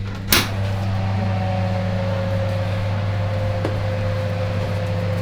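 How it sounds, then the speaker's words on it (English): An oven door is opened with a sharp clack in a home kitchen while a steady low fan hum and mains drone run beneath, with a faint second knock later on. No one speaks. "time to put these in the oven"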